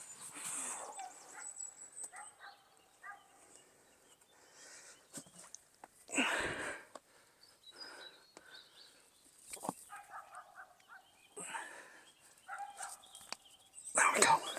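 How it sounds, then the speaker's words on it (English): Dogs bark in scattered bursts near a climbing crag at Pine Buttress, Churnet, with quiet pauses between the barks, which carry from some distance. "It's nice and peaceful till them dogs get going."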